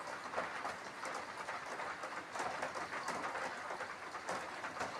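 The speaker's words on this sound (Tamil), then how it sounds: "மழை அடிச்சு ஊத்துது." Heavy rain pours down in a steady, dense roar with faint pattering and rushing variations, continuous with no voices.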